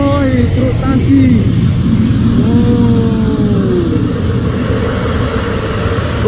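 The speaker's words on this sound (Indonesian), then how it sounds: "Oh, konvoy truk tangki." A convoy of tanker trucks on a hill road, a heavy continuous engine rumble with a falling horn-like tonal sweep in the middle, loud and close, while someone talks over it.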